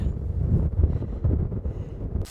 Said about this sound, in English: I got out of the wind, just like barely. It's so brutal.